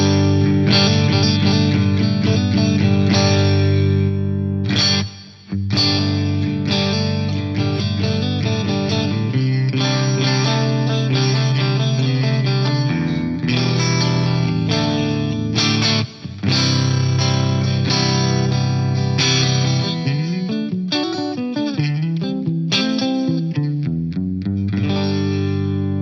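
Electric guitar played through a Lexicon MPX G2 on a hall reverb patch, chords and notes ringing loud and continuous with a wide, lingering wash of reverb and a couple of short pauses.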